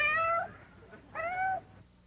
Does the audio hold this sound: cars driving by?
no